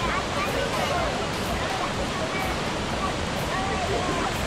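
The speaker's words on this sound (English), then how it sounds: "Right here in front of the dam." River water pours over a dam on the Nueces River in Texas, a constant close roar of rushing, churning water with brief crackling splashes mixed in, steady and loud from start to finish.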